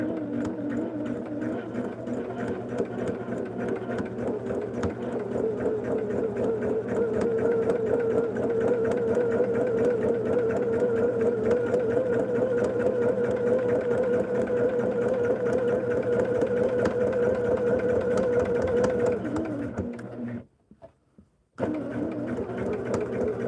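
Sewing machine stitching a log cabin quilt, running in a steady, continuous mechanical whir for about twenty seconds, then stopping abruptly before starting up again briefly.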